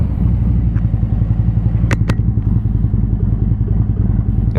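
Harley-Davidson Road Glide CVO, 2032 cc Stage IV, with a full Vincent exhaust, riding on the road: a loud, close, lumpy V-twin rumble pulsing steadily, with a couple of brief sharp clicks partway through.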